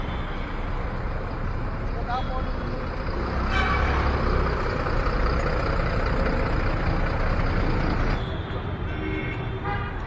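Heavy traffic jammed on a road near a village market, with engines rumbling steadily, a horn sounding and hiss of air brakes, continuous and fairly loud throughout, while a person talks over it.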